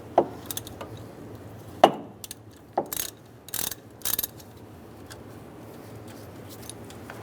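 A ratchet turning a 13mm socket to remove a nut on a 1998-2010 Volkswagen Beetle, heard as a few separate bursts of quick clicking spaced over several seconds, fairly faint, with quiet pauses between.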